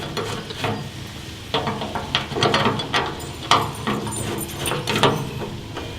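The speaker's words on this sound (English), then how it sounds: "I'm going to use my existing screws that I took off to just screw them in." Existing screws being driven into a shelf bracket on a Traeger Series 22 pellet grill, giving short irregular ratcheting and metallic clicks and scrapes at close range, with no talking.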